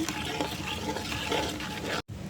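Palm pulp, water and salt being stirred in a wok, giving a steady close wet scraping and sloshing that runs continuously before a brief cut near the end.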